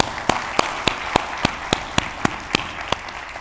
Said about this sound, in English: So a round of applause for all of you coming out today.